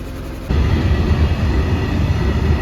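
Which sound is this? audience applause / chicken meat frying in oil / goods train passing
goods train passing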